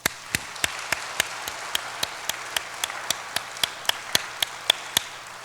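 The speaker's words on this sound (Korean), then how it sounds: "박수 한번 합시다." A church congregation claps together at a Christmas service, with sharp, evenly spaced claps in a steady rhythm of about three per second over a quiet room.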